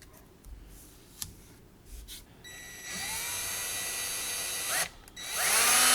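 A power drill bores a hole in metal while a B-bender is being fitted to a guitar: a few faint clicks, then a steady high whine that stops briefly and spins up again, close and loud.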